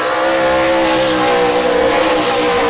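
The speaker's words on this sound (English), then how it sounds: "Ben coming to grips very well with the Camry here" A NASCAR Toyota Camry race car at testing roars loudly and steadily, its engine note holding at high revs throughout with no voices over it.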